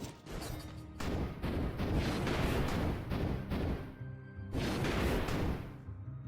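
Pyrotechnics ranged weapon in Dead Cells firing in rapid bursts, a dense stream of crackling blasts and booms with brief pauses, loud and close throughout.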